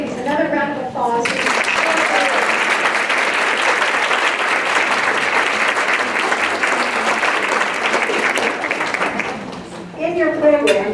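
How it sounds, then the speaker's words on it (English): An audience at the Athena Award 2018 ceremony applauds loudly and steadily for about nine seconds, with a speaking voice just before and after. "Another round of applause."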